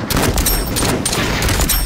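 Rapid bursts of gunfire from the VR shooter game Population 1 crack out in quick repeated volleys, loud and close, filling the whole short stretch with no talk.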